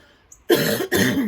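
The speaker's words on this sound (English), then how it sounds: "Excuse me, I have a little cough." Two harsh coughs close to the microphone, one right after the other, following a brief silence.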